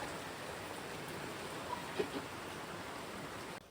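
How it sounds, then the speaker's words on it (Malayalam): Heavy rain pours outside during monsoon-season cooking, a faint, even hiss of falling water with a couple of small knocks, then it cuts off abruptly near the end. "പുറത്ത് നല്ല മഴയാണ് നല്ല മഴ നല്ല മഴയാണ്"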